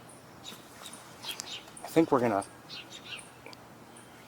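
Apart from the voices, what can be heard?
house sparrows and a chipping bird, maybe chipping sparrow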